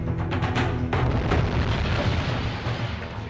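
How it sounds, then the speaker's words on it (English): A bomb explodes at the Brighton Hotel, giving a dense, sustained low boom with rumbling debris noise that stays loud for a few seconds. "The Provisional IRA have said they planted the bomb at the Brighton Hotel where Mrs. Thatcher"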